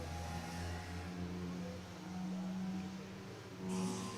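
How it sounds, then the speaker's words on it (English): A racing car engine on a circuit at Biķernieki in Riga hums steadily at moderate distance, with a brief rise in revs near the end over faint background noise. "In the case you hear this voice or sound or noise, it came from Richard Trubetsky's car"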